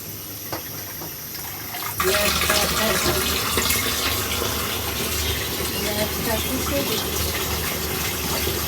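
Cold water is poured into a pot while khichuri and beef are prepared for an iftar meal. A steady, close gush of filling water begins suddenly about two seconds in and runs without a break, with faint voices in the background.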